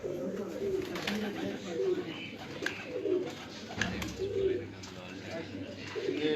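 Pigeons on a rooftop coo in repeated low rolling phrases, near and steady, while someone talks over them.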